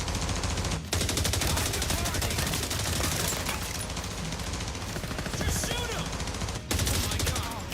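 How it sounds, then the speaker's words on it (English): Rapid automatic gunfire rattles almost without pause in a modded Star Wars Battlefront 2 shooter, dense and close, with only brief gaps between bursts and faint voices underneath. "I love shooting people in the back"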